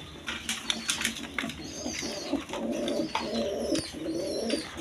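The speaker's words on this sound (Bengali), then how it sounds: "এখানে এক পেয়ার আপনার বোম্বাই, ইন্ডিয়ান বোম্বাই কবুতর আছে" A pair of Indian Bombay pigeons coo in a low, repeated rhythm, close to the microphone, with sharper chirps and scattered clatter from other birds around them.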